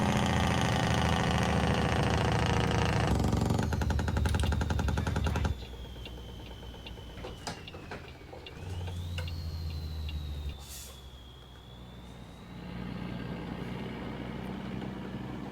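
A Kenworth W900 dump truck engine in American Truck Simulator rumbles with a loud, rapid staccato engine-brake chatter that cuts off, followed by a steadier idling drone with a faint rising whine.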